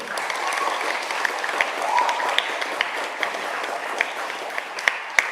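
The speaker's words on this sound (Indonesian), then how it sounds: "Mereka sebenarnya banyak, tepuk tangan dulu dong." A church congregation applauds youth committee members during a Sunday school Easter service at HKBP Kebayoran Lama, a steady mid-level wash of clapping with scattered sharper claps throughout.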